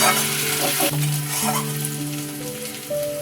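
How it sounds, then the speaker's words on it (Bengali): Ginger garlic paste fries lightly in a pan for an egg posto dish, a loud, steady close-up sizzle with stirring scrapes throughout and faint tonal hum underneath. "আদা রসুনের পেস্টটা এখানে কম দেবো। হালকা করে ভেজে নেব।"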